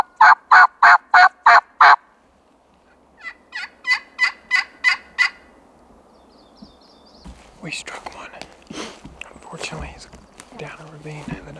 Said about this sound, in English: The way they gobbled, there was a couple gobbles that I thought might have been jakes.